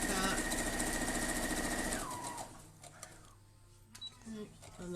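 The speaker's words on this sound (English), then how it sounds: "So I'm just going to stitch down like that." A sewing machine stitches a quarter-inch seam on a patchwork block, a loud steady mechanical whir for about two seconds that winds down and stops, followed by soft handling clicks.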